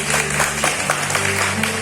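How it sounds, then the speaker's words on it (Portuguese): Church congregation applauding during an evening service, a loud, dense burst of many hands clapping over a sustained low musical drone. "Dê uma salva de palmas para Jesus nessa noite, amados irmãos."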